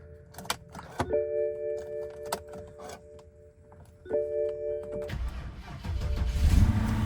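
A few clicks and warning chimes, then a V8 BMW's engine cranks and catches, settling into a close, rumbling idle.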